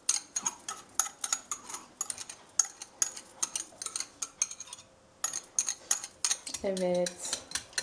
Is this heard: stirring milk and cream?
yes